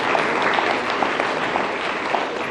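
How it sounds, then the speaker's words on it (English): Applause from an audience of young children in a school, a dense, steady patter of many hands clapping throughout at an even, fairly loud level. "Big round of applause."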